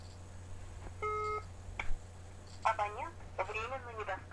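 Telephone call going unanswered: a ringback tone with beeps sounds over a steady low electrical hum, followed by a recorded-sounding voice speaking near the end.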